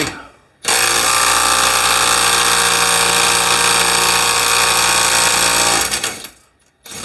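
A Snap-on CT861 cordless impact wrench with a 3/8 socket breaking a bolt loose gives one loud, sustained hammering whir of about five seconds that starts and stops abruptly, close by.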